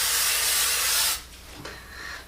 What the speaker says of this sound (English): you want to spray them again